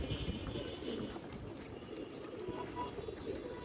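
Low, soft cooing from racing pigeons nearby, a steady murmuring run of coos under faint ambient noise.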